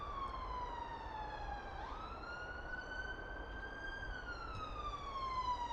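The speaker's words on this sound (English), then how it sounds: "So you can hear quite a lot of police sirens." Distant police sirens wail with slow rising and falling pitch, heard from high above Fosse Park in Leicester, faint and steady over a constant hum.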